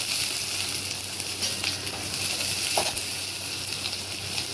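Small onions, about 150 grams, sizzle in hot oil while mutton curry is cooked, a steady dense crackle with a few sharper pops, no voices.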